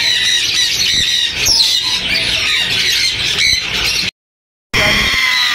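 Lutino rump parrots at a Sunday bird market in Bahawalpur, loud close shrill squawks and squeals in a dense overlapping chorus that cuts out briefly near the end.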